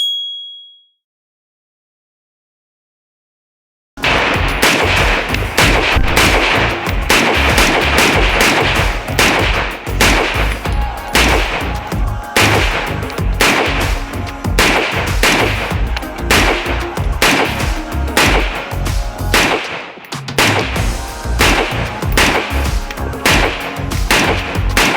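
Rapid, evenly spaced rifle shots from an FN15 Tactical Carbine II fired at a 100-yard range, loud and sharp with ringing, metallic decay. The shooting runs continuously for about 20 seconds after an opening stretch of silence.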